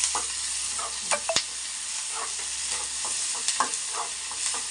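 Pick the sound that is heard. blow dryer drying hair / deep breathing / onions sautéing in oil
onions sautéing in oil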